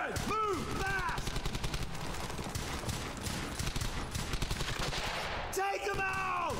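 Dense, continuous rifle and machine-gun fire rattles through a World War II battle in the video game Brothers in Arms: Hell's Highway, with shouted voices briefly at the start and end.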